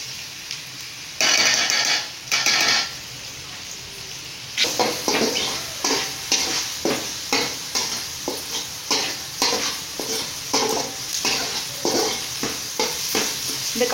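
Ginger garlic paste fries in a pan with onions for cauliflower chilli rice. A loud hiss bursts as it lands, then a spoon stirs in a steady rhythm of scraping strokes over continuous sizzling.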